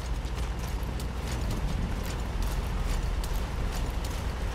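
Rapid hoofbeats of a galloping horse in the video game Metal Gear Solid V: The Phantom Pain, steady and fairly loud over a constant low rumble of background noise.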